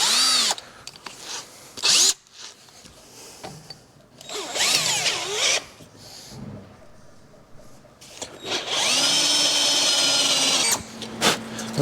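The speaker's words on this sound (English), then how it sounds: "these tapered step-up bits are fantastic when you tighten your chuck down" A Harbor Freight power drill with a tapered step bit bores through metal for motorcycle fender mounts, whining in several loud bursts with screeching cuts and short pauses between them.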